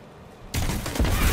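Grenade launcher fire in a multiplayer shooter, a sudden loud broadband blast cutting in after a quiet moment, followed by a second heavier boom, close and unaccompanied by talk.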